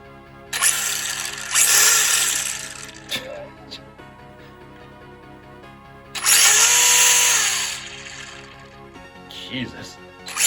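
Electric motor of an FTX Tracer RC car revving under load as it is pressed down, two loud whirring bursts of a couple of seconds each, close to the microphone, separated by quieter idle and handling noise.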